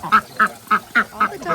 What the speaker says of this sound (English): All the ducks walked over here.